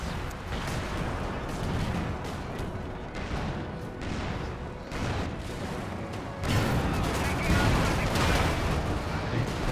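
Rapid, dense gunfire and booming artillery from a Company of Heroes 2 four-versus-four Soviet battle, with continuous overlapping shots that swell louder near the end.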